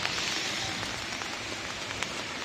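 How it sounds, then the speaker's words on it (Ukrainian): Heavy winter rain pours steadily, a dense hiss of drops pattering on a surface with no voices. "Дощ валить."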